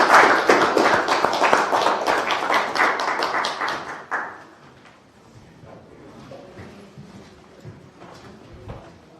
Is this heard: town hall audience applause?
yes